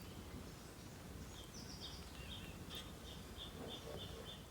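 Faint birds chirp in repeated short high calls against a quiet outdoor background hiss.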